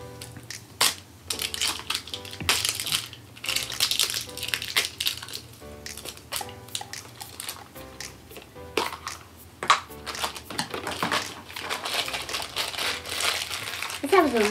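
Wrapping paper crinkles and crumples in bursts of close, crisp rustling while a capsule toy is unboxed, with a person talking throughout between the rustles.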